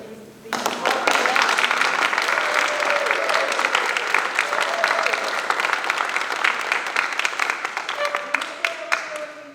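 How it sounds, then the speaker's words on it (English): Loud, dense applause from an audience for the artists at the end of an art panel discussion. It starts abruptly and holds steady, with many overlapping claps throughout. "Give a big round of applause for these."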